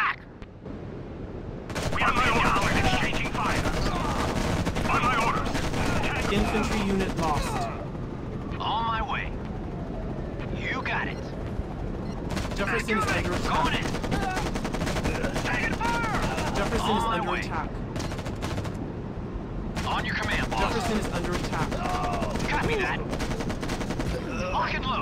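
Beta Team opens fire in Act of War, with sustained bursts of automatic gunfire and scattered blasts rising and falling across a battle scene, and voices talking at moderate level in between.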